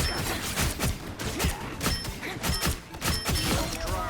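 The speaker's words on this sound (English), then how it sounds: "I actually like breaking this wall." Destructible wall breaking apart in a hero shooter video game, a dense run of crashing, shattering impacts and thuds with rapid gunfire-like bursts, loud and continuous throughout.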